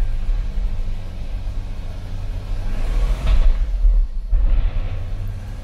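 A Toyota Supra Mk4 converted to a manual six-speed gearbox drives along with a low engine and road rumble. It builds in intensity, then a brief dip and resurgence like a gear change.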